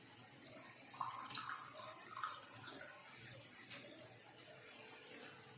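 Water poured from a tumbler into a cooking pan for paneer butter masala, a soft splashing trickle in a few short bursts that then settles into a faint wet hiss.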